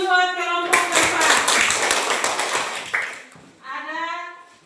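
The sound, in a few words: clapping for the front group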